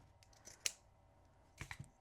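Fabric scissors make a few separate snips, cutting pinking-style triangles into cloth one cut at a time, with small crisp clicks standing alone in a quiet room.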